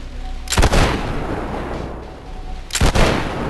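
Two loud gunshots ring out in the tactical shooter Ready or Not, spaced about two seconds apart, each a sharp crack trailing into a booming echo over steady background ambience.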